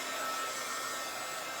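A hair dryer blows steadily and loudly at close range, drying something with a constant whooshing hum and no pauses or voices.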